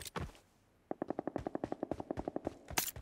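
Rapid bursts of automatic gunfire in PUBG Mobile, a quick even rhythm of sharp shots, with a couple of louder single blasts at the start and end.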